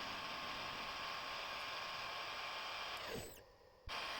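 A metal lathe turns with a high-speed steel tool cutting and facing the end of the stock, giving a faint, continuous hissing whir that cuts out abruptly near the end.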